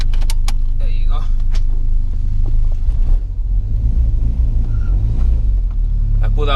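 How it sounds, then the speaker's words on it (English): A Nissan B13 Sentra 1.6 turbo's power window motor hums as the glass goes up, heard inside the car over a loud, steady idling engine rumble with some light rattles. "I put that window up so the window doesn't make that much noise."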